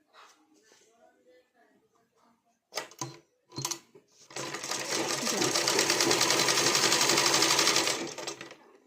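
A sewing machine stitches piping onto a blouse, running as a loud steady whir for about four seconds after a few short starts, with quiet talk before it.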